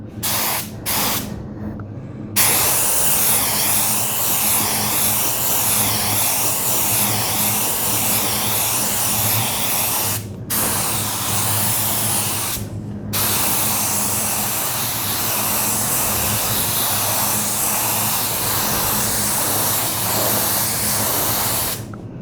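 A spray gun lays blue lacquer across a furniture top in a long, steady, loud hiss, cut by a few brief pauses between passes, close and without talking.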